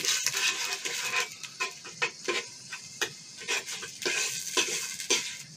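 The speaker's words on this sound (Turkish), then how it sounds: "Şimdi bu soğanı iyice kavuracağız." Steady frying sizzle of onions sautéing in a pot, with repeated scraping and stirring clinks of a utensil against the pot, close and continuous, no talking.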